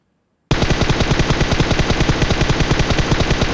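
Automatic gunfire in the mobile game PUBG Mobile erupts after a brief silence, a loud, rapid, unbroken stream of shots sustained for three seconds, close and dominant.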